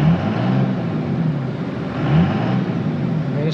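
A used Cummins diesel truck engine runs steadily and loudly at close range, a constant low rumble that swells slightly partway through, with no voices.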